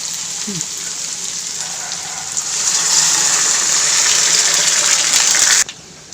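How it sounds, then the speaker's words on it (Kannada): Water pours into a hot pan of upma with a rising, rushing hiss that holds for a few seconds, then cuts off abruptly. "ಈಗ ಒಂದು ನೀರು ಹಾಕೋಣ."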